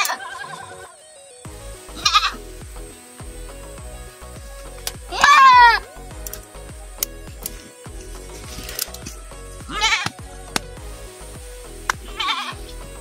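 A goat that has fallen into a deep hole on a farm bleats in several loud, wavering calls spread across the span, with quiet rustling and faint mechanical clicks between them.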